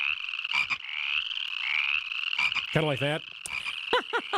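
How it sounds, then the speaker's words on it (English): Frogs croak in a Wisconsin pond, loud rhythmic pulsing calls and ribbits over a steady high trilling chorus, close and continuous, with a brief spoken phrase partway through. "That loud croaking, chirping, ribbiting chorus that suddenly shows up out of nowhere."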